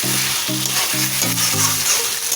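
Garam masala being stirred into egg korma frying in a pan, a steady close sizzle with repeated scraping stir strokes and a low tonal hum pulsing in short bursts throughout.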